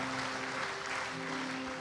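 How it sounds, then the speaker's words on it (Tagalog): Church congregation applauding together, a dense steady wash of clapping under a faint sustained tone, continuous and fairly close throughout. "Palakpakan natin ang Panginoon."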